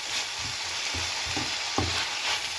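Shallots and onions for a mutton curry sauté in a pan, a continuous soft sizzle broken by a few low scraping stirs at regular intervals, close and moderately quiet with no talking.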